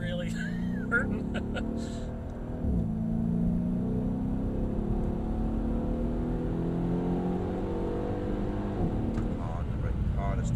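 A Mercedes-Benz E63 AMG V8 roars continuously while cornering on the Mercedes-Benz World track at Brooklands, engine note rising and falling with throttle, close and loud throughout, with someone talking over it.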